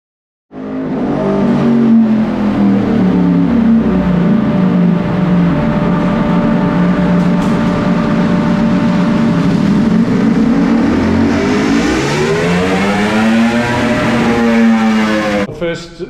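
A 2024 Ducati Streetfighter V4S fitted with a Vandemon exhaust revs hard on a dyno, a loud continuous engine roar that climbs steadily in pitch, drops, then sweeps up again before cutting off, with no voices.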